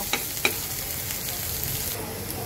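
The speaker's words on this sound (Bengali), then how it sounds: "পেঁয়াজটা দিয়ে দেওয়ার পরে পেঁয়াজটাকে কয়েক মিনিট সুন্দর করে ভেজে নেব" Onions frying in hot oil for a shapla and shrimp dish, giving a steady soft sizzle with a couple of brief clinks of a utensil near the start.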